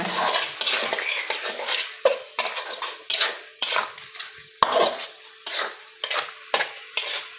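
A metal spoon scrapes and stirs spices with turmeric frying in a pan, giving about a dozen rhythmic strokes close up over a soft sizzle, with no voices.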